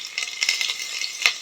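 Curry leaves and turmeric fry in hot oil for a vegetable khichdi, a bright close sizzle with quick crackling bursts and one sharp pop near the end, brief and without speech.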